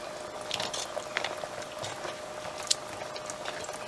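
Meat being stirred into tomato sauce in a pot while cooking for coconut rice, a steady close simmering, bubbling patter with light scraping, no voices.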